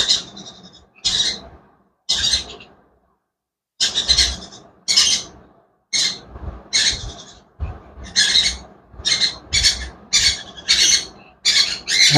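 A hungry pet bird being hand-fed about 20 ml of food squawks in loud, harsh bursts, short pauses between them at first, then the calls come faster and closer together.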